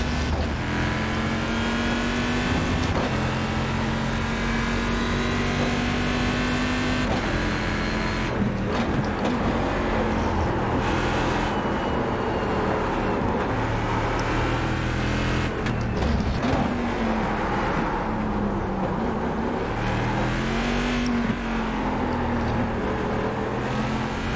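A GT1 race car engine in the iRacing sim revs loudly and continuously on the last lap, its pitch climbing and dropping through gear changes as the car accelerates out of bends.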